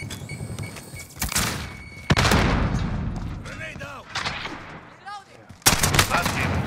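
Loud close bursts of automatic gunfire from a newly added gun in Call of Duty: Modern Warfare, several sharp volleys separated by short pauses, with players talking between them.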